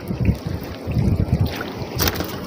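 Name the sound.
wind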